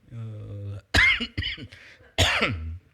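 Two harsh, sudden coughs from a man with a lingering cold break up a stretch of quiet speech, each loud and close, with a brief pause between them.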